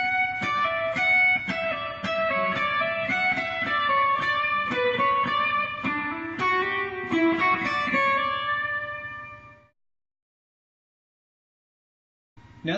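Classical guitar plays measure 21 of Pachelbel's Canon, a steady run of single melody notes over lower tones, loud and close, ringing for about nine seconds before stopping into silence, with a brief sound returning at the very end.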